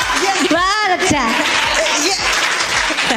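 Audience applause at a Hindi comic poetry gathering, a steady crowd clapping that runs throughout, mixed with someone speaking over it.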